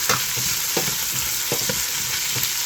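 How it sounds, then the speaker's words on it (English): Andouille sausage frying and caramelizing in a pot for beef nilaga soup, a steady close sizzle with repeated scraping stirs every half second or so, no voices. "we're gonna put some andouille sausage. Let that caramelize a little bit."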